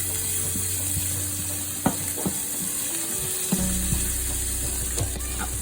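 Basil and vegetables sizzle in a hot pan during a home morning cooking routine, a steady frying hiss broken by occasional clicks and scrapes of stirring.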